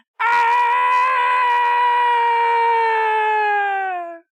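A voice lets out a long, drawn-out high scream imitating a cartoon cat in pain, held steadily for about four seconds before trailing off.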